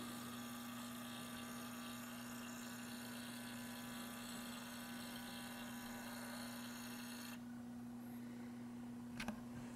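A Sony camera lens zooms with a faint, steady motor whine that stops abruptly near the end, followed by a brief small click.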